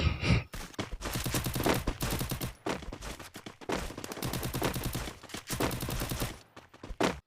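Rapid bursts of automatic gunfire from the Free Fire video game arrive in several loud, close volleys separated by short pauses.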